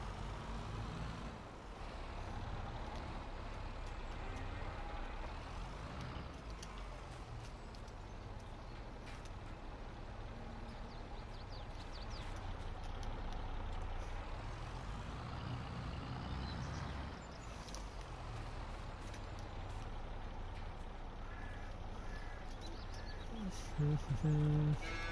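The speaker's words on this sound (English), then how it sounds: "Yeah, it's an old tractor, but yeah." An old tractor engine idles and runs steadily in Farming Simulator 2022, a low continuous drone with a brief louder knock near the end and no talking.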